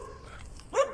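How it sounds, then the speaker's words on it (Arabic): A street dog gives a single short bark, fairly close, after a stretch of quiet outdoor background. "دي كلاب مسالمه عشان الناس اللي بتقول كلاب الشارع بتهاجم"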